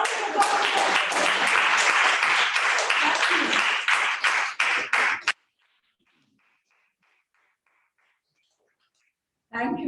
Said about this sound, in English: Go for every round of applause.